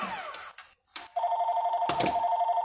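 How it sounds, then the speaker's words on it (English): A telephone rings indoors in a home craft-card session, a bright electronic trill that starts after some brief clatter and repeats in a fast, even pulse at moderate volume. "The phone's ringing."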